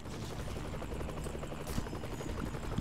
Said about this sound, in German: Das ist ein scheiß Helikopter.